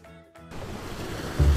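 Sea waves surge in a children's storybook narration, a soft wash building steadily and swelling louder toward the end, with no voices over it.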